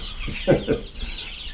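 Meat chickens cluck while pecking at food, giving a couple of short, close clucks over a steady background hiss.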